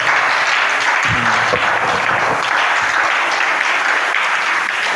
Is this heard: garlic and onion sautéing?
no